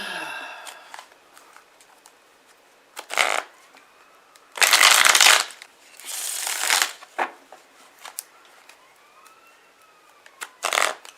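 Tarot cards are shuffled in several loud, riffling bursts close by, separated by quieter pauses and softer handling sounds.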